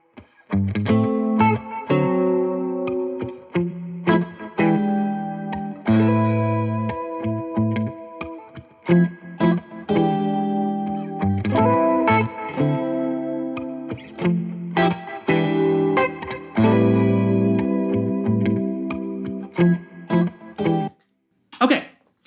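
Electric guitar chords played through a pedalboard with delay and chorus-style effects, strummed in rhythmic bursts with gaps between phrases, close and fairly loud, with no talking.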